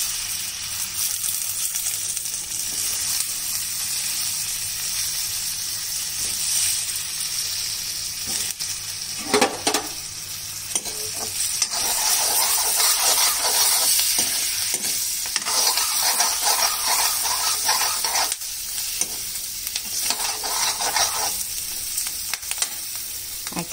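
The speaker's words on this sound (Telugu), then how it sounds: "దీంట్లో ఇప్పుడు మిర్చిలు వేయించుకున్నాం బజ్జి మిర్చి వేయించుకున్నాం" Bajji chillies sizzle and fry steadily in hot oil or ghee in a pan, a continuous close crackle with occasional stirring scrapes and bursts of louder spattering.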